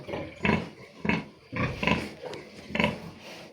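Three-day-old piglets grunting and squealing in repeated short bursts, close by, with a noisy barn background between calls.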